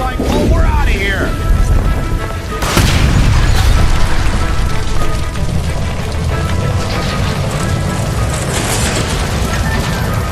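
A gas line blows up after being shot in the video game L.A. Noire, a loud booming explosion that swells into a long roaring rumble, with shouted voices and game noise around it.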